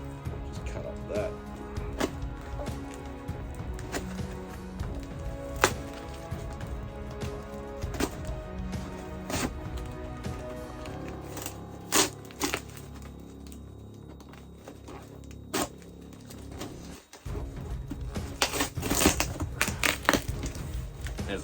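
Packing material from a comic art delivery is cut up and crushed up close, giving a dense run of crinkling, crunching and snapping that goes on steadily, with a brief quiet patch before louder rustling resumes.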